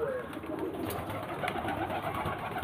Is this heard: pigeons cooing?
yes